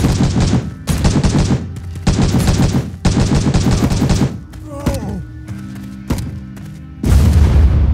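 In an MMORPG shooter, rapid bursts of gunfire crackle in dense, loud volleys, then a grenade explosion booms with a deep low rumble, followed by more heavy firing and a final thud.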